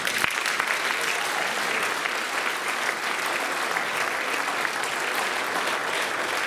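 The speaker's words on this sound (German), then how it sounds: "Ich denke, das gebührt auch nochmal einen Applaus." Sustained applause from an indoor audience at a shanty choir evening, dense steady clapping close and loud for several seconds without a break.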